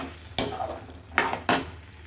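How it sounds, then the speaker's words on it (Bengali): Okra being stir-fried in spiced masala with a little oil for Bengali bhindi, a low sizzle broken by three sharp scrapes of a spatula against the pan, close by and without talk. "এর ভিতরেই আমি ভেন্ডিটাকে দিয়ে দিলাম। ভেন্ডিটা দিয়ে একটু ভালো করে কষিয়ে নিই"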